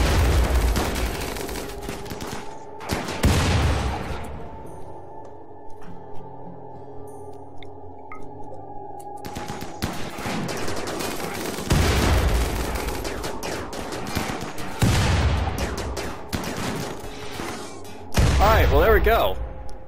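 Gunfire from colonists in the RimWorld video game, loud bursts of rapid shots and booming thuds spread across the clip with quieter gaps between them, under a voice.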